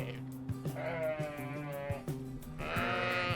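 Sheep bleat on a Patagonian ranch, two long wavering calls close by, one early and one near the end, over a low background hum.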